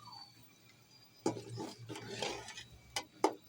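A spoon scrapes and clinks against a metal pot while chicken powder is stirred into boiling water for aloo matar white pulao, a few distinct faint knocks and swishes against a quiet low hum.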